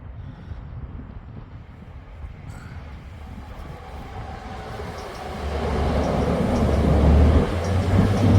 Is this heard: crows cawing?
no